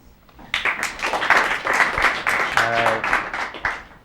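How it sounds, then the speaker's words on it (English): A small audience claps for a student musician interview, a burst of uneven, fairly close applause starting abruptly and continuing with a few distinct individual claps and a brief voice-like sound partway through. "Round of applause"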